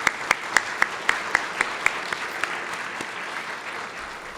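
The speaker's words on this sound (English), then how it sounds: "let's offer all of our recipients one more round of applause" An audience at a chamber of commerce awards dinner claps for the award recipients, sharp individual claps that thin out and fade over a few seconds.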